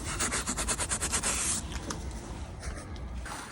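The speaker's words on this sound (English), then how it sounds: "You can probably rub this up now." Silicone render plaster being rubbed up on a wall on a building site in freezing conditions: a rapid, rhythmic series of close scraping strokes, then quieter, looser rubbing, with no talk.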